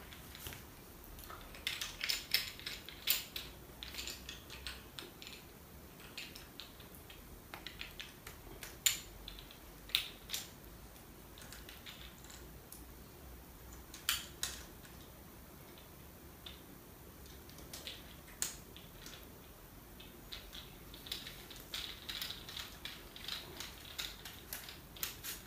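A camera tripod being tightened and extended gives faint, scattered plastic and metal clicks and ticks, some in quick little runs, against a quiet room with no talking.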